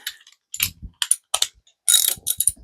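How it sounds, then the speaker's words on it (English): Socket ratchet cinching bolts during a bottom-end and piston rebuild of a Crusader 454 marine engine, several short bursts of close, crisp clicking separated by brief pauses. "So I'm going to grab a socket and just cinch those in a little bit tighter."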